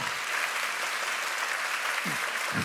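Sustained audience applause at the close of a mathematics lecture, a steady, even wash of many hands clapping, fairly soft and unbroken, with no talking.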